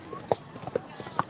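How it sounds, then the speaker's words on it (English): A racehorse gallops past on the Churchill Downs track on Kentucky Oaks Day, with a quick run of sharp, close hoofbeats in an uneven galloping rhythm that lasts just over a second, and a voice talks underneath. "You hear that sound, folks? That's one horse."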